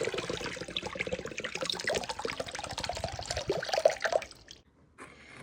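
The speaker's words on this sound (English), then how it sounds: "I also add coconut water." Coconut water pours in a continuous close trickle for a few seconds, splashing softly, then tapers off and stops.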